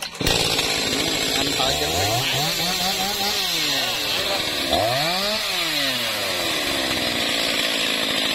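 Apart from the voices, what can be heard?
chainsaw cutting a jackfruit tree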